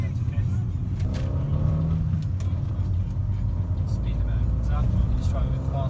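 A 2012 Fiat 500c with its 0.9 engine cruises steadily in fourth gear, giving a continuous low engine drone and road rumble from inside the cabin, with someone talking over it.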